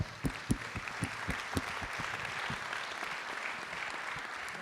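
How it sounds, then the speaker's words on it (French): Audience applause welcoming Marie-Christine Cotin, second vice-president of the departmental council, onto a stage: a dense wash of clapping with a few sharper near claps at the start, steady and moderately loud throughout, with no talk. "On va vous demander maintenant, s'il vous plaît, d'applaudir et d'accueillir Marie-Christine Cotin."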